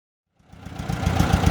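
A 1947 Farmall A or 1953 Super C tractor's four-cylinder engine rumbles up from silence into a steady, loud, close idle with a faint knocking pulse.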